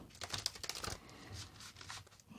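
Tarot cards being shuffled, heard as soft, close papery riffles and crinkly flicks in quick bursts, fairly faint, with no talking.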